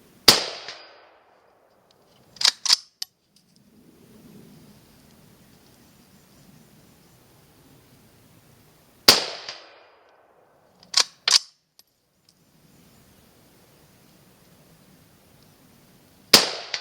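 Rifle shots from a 6.5 Grendel, fired at 100 yards during a scope recoil test. Three sharp, loud reports sound about seven seconds apart, each followed by a couple of quieter metallic clicks and clanks, with faint rumbling between.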